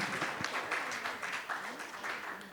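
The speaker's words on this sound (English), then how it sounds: "Can we please have a round of applause?" An audience at a business leadership conference session applauds, a steady wash of many overlapping claps that stays even in loudness for a couple of seconds.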